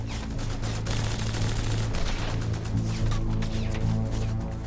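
Sustained, dense gunfire, rapid overlapping shots from several weapons firing continuously without pause at a Waffen-SS roadblock in Second World War combat.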